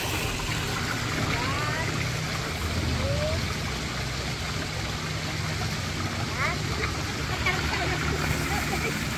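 Steady rushing of water pouring from an outdoor tap, a continuous broadband wash filling the scene with voices talking over it.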